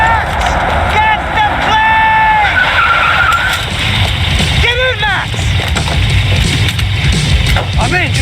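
A car skids in Max Payne 3 during a chase, with tire screeches near the start and again midway, loud amid engine roar and action noise.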